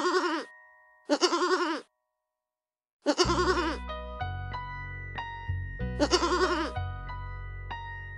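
Several close goat bleats, wavering and nasal, some alone and some over a simple cartoonish music backing.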